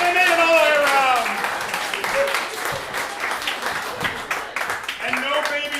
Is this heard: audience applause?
yes